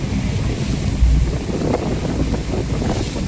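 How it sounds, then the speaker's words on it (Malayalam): A boat moving across the Mediterranean Sea, with steady wind buffeting the microphone and a constant rush of water and waves, loud and continuous with no voices. "ഇതിലൂടെ ഉള്ളൊരു ബോട്ട് യാത്ര"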